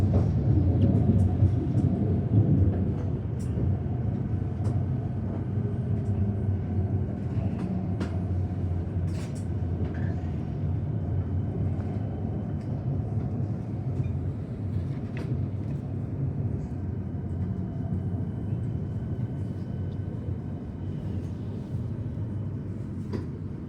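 A Melbourne Frankston Line train pulls into Richmond station with a steady low rumble and wheel noise. Occasional squeals and clanks sit on top of the rumble, which eases slightly as the train slows, and no one speaks.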